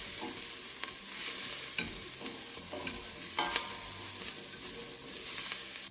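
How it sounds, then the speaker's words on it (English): Broccoli and potato soup base being stirred in a pot, heavily peppered: a steady sizzle with scattered scraping clicks of the spoon, close and continuous, no voices. "Okay, give it a stir."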